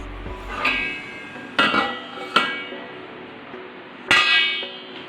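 Salted idli batter is stirred in a metal pot, and a few sharp clanks and scrapes sound as the spoon knocks the sides at uneven intervals. The sounds are close and moderately loud, with no speech.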